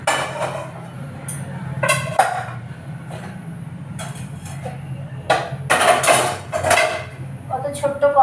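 A small iron kadai clanks and scrapes on a kitchen stove in several sharp metallic knocks and rattles, close and fairly loud, over a low steady hum.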